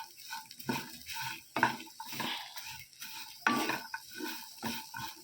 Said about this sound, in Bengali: এই যে মুড়ি মেখে নিয়েছি ছোলা আর ইয়ে দিয়ে, কারি পাতা দিয়ে